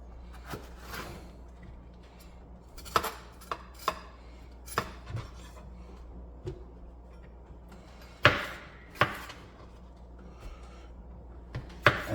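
Knife chopping vegetables, including a warm pepper, on a cutting board for blending: sparse, sharp single thuds and clusters of quick cuts spaced irregularly over a quiet, close kitchen background.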